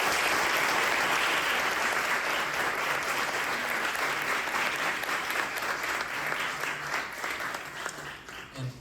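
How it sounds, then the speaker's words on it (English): An audience applauds a conference panel, sustained dense clapping that stays strong throughout before thinning slightly at the end. "Let's give them a big round of applause"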